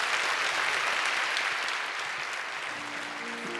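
Church congregation applauding the newly baptized, a steady wash of many hands clapping at moderate distance, with a faint sustained organ or keyboard tone entering toward the end.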